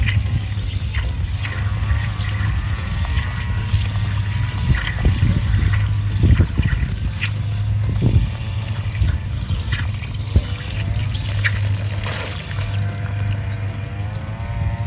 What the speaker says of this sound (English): you connect it to the hose and let water go and just wait for the water to be clean